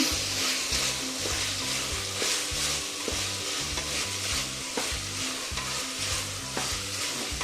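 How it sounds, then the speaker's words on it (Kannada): Ginger garlic paste fries in oil for tomato bath, a loud, continuous close-up sizzle with a rapid rhythmic stirring pulse running beneath it throughout. "ಶುಂಠಿ ಬೆಳ್ಳುಳ್ಳಿ ಪೇಸ್ಟ್ 2 ಮಿಕ್ಸ್ ಮಾಡಿ ಹಾಕಿದೆ. ಇದು ಸ್ವಲ್ಪ ಎಣ್ಣೆಲಿ ಫ್ರೈ ಆಗಲಿ"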